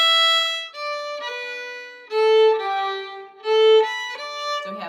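A solo violin plays a short phrase of the Scottish march Fingal's Cave, a few clear bowed notes in steady rhythm, close and moderately loud.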